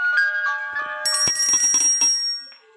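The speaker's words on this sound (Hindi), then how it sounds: "ग्रैनी नहीं है तो उसके घर की घंटियां बजा लेते हैं।" Bells ringing inside the house in the horror video game Granny, a bright run of overlapping electronic chimes and dings with sharp repeated strikes, loud and close, fading out at the end with no talk.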